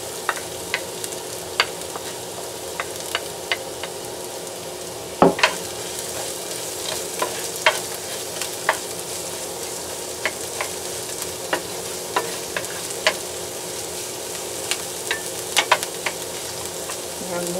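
Chopped garlic and onion sauté in oil in a pan for a Filipino egg caldereta, a steady close sizzle broken by frequent sharp taps and scrapes of a spatula stirring, one heavier knock partway through.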